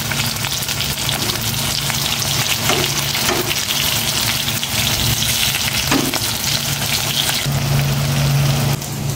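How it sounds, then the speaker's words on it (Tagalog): Tofu frying in a hot pan (kawali), a steady loud sizzle throughout with occasional stirring scrapes and a brief faint tone near the end; no one speaks. "Uminit na itong kawali, maglalagay na ako ng tokwa."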